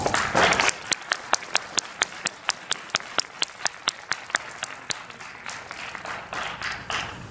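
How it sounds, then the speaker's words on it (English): An audience at a student science competition Q&A session applauds, starting with a brief burst of crowd clapping that settles into a slow, rhythmic single clap repeated about twenty times, then fades into scattered, quieter clapping. "Let's have a round of applause."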